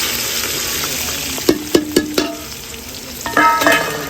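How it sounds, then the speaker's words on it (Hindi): Onions fry in hot ghee with a constant sizzling hiss, broken by several sharp scraping knocks of a spoon stirring against the pot, close and fairly loud. "घी गर्म हो चुका है, मसाले ऐड करते हैं। कौन से? प्याज वाले।"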